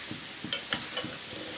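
Potatoes frying in a pan sizzle under a few sharp stirring scrapes at regular intervals, with no one speaking.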